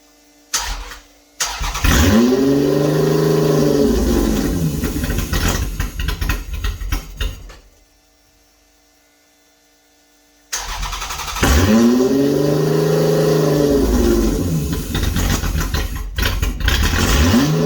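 A wheelie project car's engine cranks and fires, revs loudly for several seconds, cuts out into near silence, then starts again and runs and revs hard to the end, close and alone.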